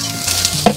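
Broccoli with garlic sizzles in a hot wok, a soft steady frying hiss with a brief clink near the end, close and alone.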